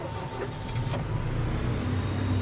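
A fairly new Caterpillar D5 bulldozer with 1600 hours on it runs outdoors, its diesel engine giving a steady, loud low rumble with a couple of faint clicks near the start.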